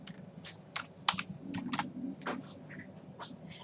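Someone types a field name on a computer keyboard in about a dozen soft, irregular key clicks, quiet and close, with no talking.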